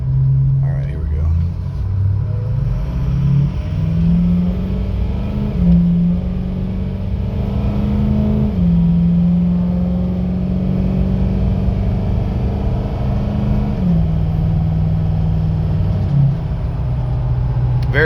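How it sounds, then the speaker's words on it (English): A 2006 Ford F-250 Lariat pickup accelerates hard on a test drive. The engine drones loudly and steadily from inside the cab, its pitch climbing and then dropping as the transmission shifts up several times. "do a hard acceleration right here, and we'll get a feel for under pressure."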